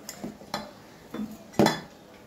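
Spoon stirs gram flour batter in a bowl, giving four soft, irregular clinks and scrapes against the bowl, quiet and close.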